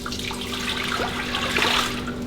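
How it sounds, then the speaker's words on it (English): Prickly pear juice poured into a pot for jelly, a steady splashing liquid stream running for a couple of seconds, close and fairly loud. "So I'm gonna go ahead and pour this in."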